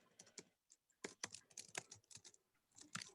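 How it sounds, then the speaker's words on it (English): Keystrokes on a computer keyboard rattle in quick irregular bursts with short pauses, close and fairly quiet, with no talking. "I'm just typing that last bit."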